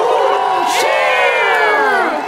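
A crowd of children cheers and whoops loudly in response to a call at a rock concert, a sustained burst of overlapping high-pitched shouts that swells and holds for about two seconds.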